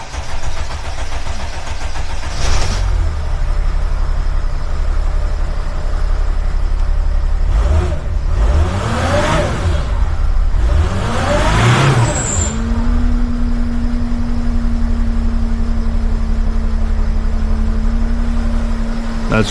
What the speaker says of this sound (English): I'm gonna start the engine again.